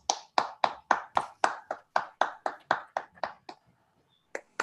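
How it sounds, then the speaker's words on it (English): Online meeting participants clap after a Speechcraft program finale, a run of about fifteen distinct, close claps in steady rhythm that thins out and pauses before two final claps. "Please unmute yourself and give a huge round of applause to all these Speechcrafters and facilitators."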